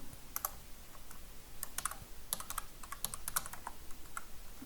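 Typing on a computer keyboard while entering a text label in a topographic drawing program, irregular bursts of light key clicks with short pauses, close and fairly quiet, no voices.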